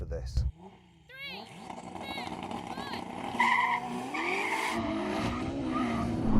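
A car engine revs and rises while tires squeal and skid in bursts, with engine pitch climbing toward the end.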